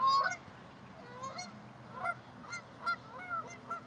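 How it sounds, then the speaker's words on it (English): Waterfowl at Echo Park Lake in Los Angeles give a series of honking calls, repeated in short bursts at moderate distance over quiet outdoor ambience. "Oh, ducks."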